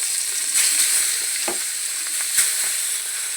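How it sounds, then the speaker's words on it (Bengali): Catla fish fries in hot oil in a wok with a loud, steady, close sizzle, a few brief crackling flares and soft knocks breaking through; no one speaks. "এবার কাতলা মাছটা আমি ভেজে নেব।"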